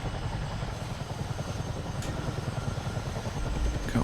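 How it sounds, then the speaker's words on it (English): A helicopter sets down in Microsoft Flight Simulator with a steady rotor chop and engine drone, moderately quiet and alone, swelling slightly near the end. "I'm going to set the helicopter down out of the way of everybody else"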